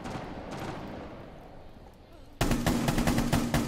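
Loud, rapid gunfire bursts in the tactical shooter Rainbow Six break in suddenly after a low rumble of muffled game ambience.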